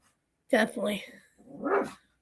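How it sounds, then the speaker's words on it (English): A big guard dog barking at home, two loud, close bark bursts with a whiny, yipping edge, heard alone. "my big, huge guard dog, Houdini."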